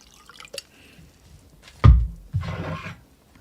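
Water poured from a Nalgene bottle into a cup, a short glugging splash rising after a couple of faint drips, close and clear in a quiet room.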